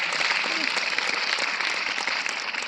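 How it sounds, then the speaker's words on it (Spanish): An audience at a pastor and writer's conference applauds in a steady, moderately loud wash of clapping that carries on without a break. "Demos este aplauso a Dios."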